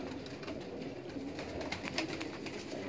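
Pigeons coo steadily in a breeder's loft in Sialkot, a continuous low murmur of overlapping calls from several birds, close and moderately loud, with no voices.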